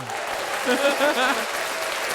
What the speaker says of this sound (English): Applause, my friend.